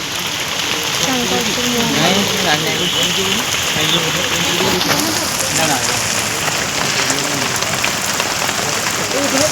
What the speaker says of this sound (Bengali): বৃষ্টি হচ্ছে আবার দাঁড়িয়েছি আমরা